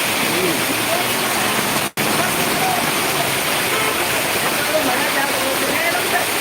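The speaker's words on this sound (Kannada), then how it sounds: "ಬಾಗಲಕೋಟೆಯಲ್ಲಿ ಜೋರಾದ ಸುರಿದ ಮಳೆ" Heavy rain in Bagalkot pours in a dense, steady hiss without letting up, loud and close, broken only by a split-second cut.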